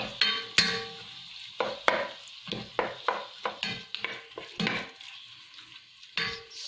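Chicken browns in hot oil for pancit bihon, with loud sizzling broken by frequent sharp clinks and scrapes of a utensil against the pan, close up and with no voices.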